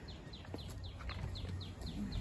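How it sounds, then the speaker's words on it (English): Birds singing outdoors on a morning, with a quick, evenly spaced run of bright chirps repeating about four times a second over a low steady background hum, with no talking. "Oh, listen to the birds"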